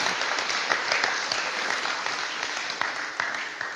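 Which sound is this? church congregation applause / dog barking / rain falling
church congregation applause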